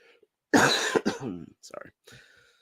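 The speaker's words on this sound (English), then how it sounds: "Still got the cough a little bit here." A person coughs forcefully a few times up close, with short throat-clearing bursts afterward, then falls quiet.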